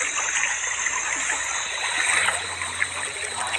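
A river flows by a riverbank at dusk, giving a steady, close rush and trickle of running water that carries on without a break and has no talk over it.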